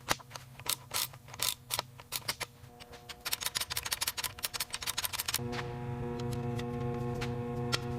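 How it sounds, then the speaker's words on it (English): A ratcheting torque wrench tightens engine head bolts in a garage restoration of a Batmobile, giving rapid close clicks in uneven bursts, then a steadier mechanical whir and hum. "We're using the torque wrench now to make sure these head bolts are exactly the spec."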